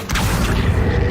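An Accio spell in a Harry Potter video game gives a brief, loud, booming rumble with a low mechanical grind, heavy and sustained for about a second.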